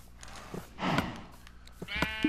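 Minecraft sheep bleats after being hit, a couple of short nasal cries near the end following scattered game noises, close and moderately loud with no talk.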